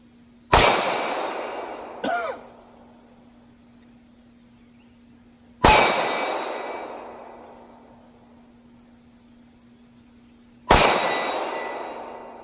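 A PSA Dagger pistol fires rounds at steel targets at an outdoor shooting event, with four sharp, widely spaced bangs; each loud report trails off in a ringing decay.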